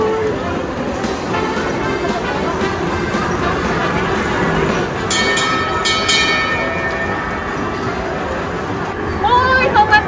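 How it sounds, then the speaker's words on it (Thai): A Thomas-themed ride-on train runs through the Central Westgate shopping mall in Nonthaburi, with a steady rolling rumble and a few brief bright chimes. People talk over it throughout. "รถไฟออกแล้วเหรอครับ"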